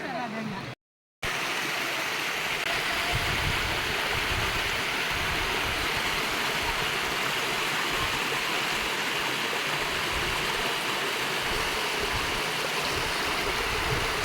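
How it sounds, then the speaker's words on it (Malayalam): Stream water rushes in a steady, close, broadband wash as someone wades across on foot, interrupted only by a brief gap near the start. "ഈ വെള്ളത്തിൽ കൂടെ തന്നെ എനിക്ക് നടന്ന് അക്കരെ എത്താൻ പറ്റത്തുള്ളൂ"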